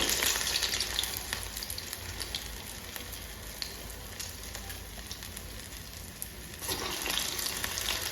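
Medu vada, a ring of urad dal batter, frying in hot oil: a steady, close crackling sizzle that runs unbroken for several seconds, slightly louder at the start and again near the end.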